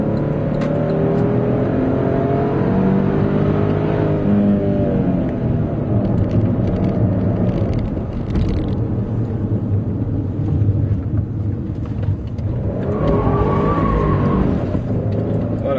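A 2011 Porsche Panamera S Hybrid spins its wheels and skids under heavy torque with stability control off, its engine revving in rising sweeps while the tires squeal and scrub continuously, close and loud.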